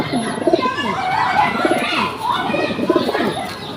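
Female pigeons coo close by in rhythmic, repeated throaty bursts, several rolling calls overlapping across the stretch.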